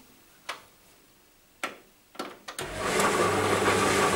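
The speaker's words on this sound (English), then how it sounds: "hold it here while I start the machine." A Beko vented tumble dryer is switched on: a few sharp clicks, then the motor and drum start up into a steady, loud running hum that continues to the end.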